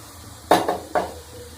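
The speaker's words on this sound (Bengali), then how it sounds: "দিয়ে এবারে ভালো করে নেড়ে দিচ্ছি, ভালো করে নেড়ে মিশিয়ে এবারে ঢাকা দিয়ে দেবো।" A spoon knocks against a pan while fish curry (rui in mustard-poppy sauce) is stirred after hot water goes in, giving two or three quick metallic clinks and scrapes over a quiet background.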